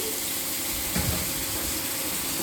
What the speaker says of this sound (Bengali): এইবার মশলাটাকে একটু হালকা জল দিয়ে